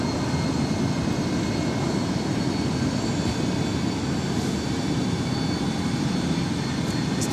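A Boeing jet airliner at San Jose Airport gives off a steady, loud broadband roar of engine noise that holds constant throughout, with no voices heard.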